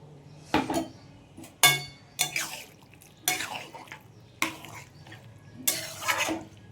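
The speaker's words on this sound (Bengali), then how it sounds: "এবার আমি এই পোস্তটা ঢেলে দেবো।" Poppy seed paste for a ridge gourd and potato posto with nigella seeds goes into a pan and gets stirred. A spoon scrapes and clinks against the metal in several separate bursts, each followed by quieter stirring. It is close by, and nobody speaks.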